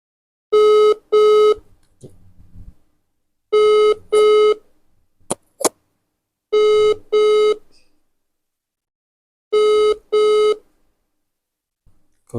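A phone call ringing while waiting for an answer: repeated paired electronic ring tones in four evenly spaced bursts, loud and close, with short quiet gaps and faint clicks between them.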